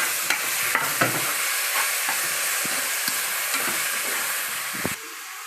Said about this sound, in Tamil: பச்சை வாடை போகிற வரையும் நல்லா வதங்கணும் தக்காளி